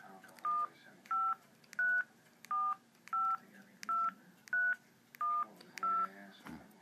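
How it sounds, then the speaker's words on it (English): A phone keypad beeps out a number, nine short tones in an even rhythm, close and clear against a quiet background. "you want to type the phone number"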